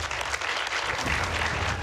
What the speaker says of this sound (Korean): 묵직한 말에 절로 나오는 박수